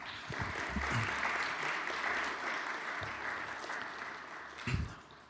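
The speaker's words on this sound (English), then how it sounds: "Let's give her another round of applause." Steady applause from a school chapel audience fills the room, an even rush of clapping that holds for several seconds before thinning out, with faint murmurs.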